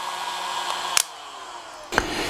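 A Sturm heat gun with a rubber-coated handle runs steadily as a broadband airflow hiss, with two sharp clicks as its setting changes; no one speaks.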